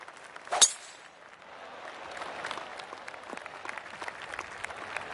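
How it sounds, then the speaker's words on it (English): A brief burst of polite applause from a small golf crowd at a PGA tournament fades into a soft murmur, distant and fairly quiet. "Oh, golf clap. That's a beauty."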